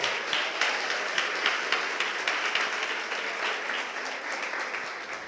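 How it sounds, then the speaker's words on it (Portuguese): A church congregation claps together during a sermon, a sustained wash of many hands with a slight rhythmic pulse, steady and fairly loud, slowly easing over several seconds. "Você pode aplaudir o nome do Senhor?"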